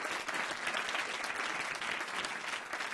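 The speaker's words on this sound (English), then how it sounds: "So you can clap for that." Audience at a company conference applauding, a thick, lively burst of many hands clapping together, loud and sustained for a few seconds without speech.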